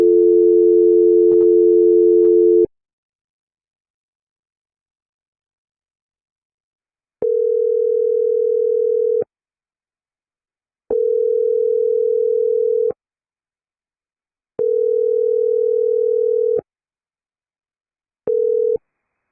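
A telephone line after a hang-up plays one long steady tone and then a run of evenly spaced, repeating beeps separated by silences, loud and clear with no voices.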